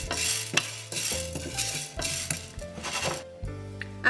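Two tablespoons of chana dal roast in a hot pan, stirred steadily with a utensil, giving continuous scraping and rattling over a bed of background music.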